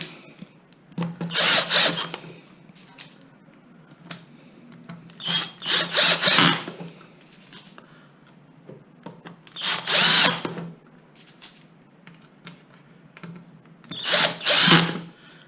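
Power drill driving screws while a motor controller is refitted into its housing on a Zip X5, four separate bursts of whirring a few seconds apart, close and fairly loud with quiet gaps between.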